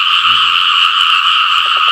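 Two frogs croak loudly and close by in shallow water at night, a steady buzzing chorus with a few short low croaks mixed in, no voices.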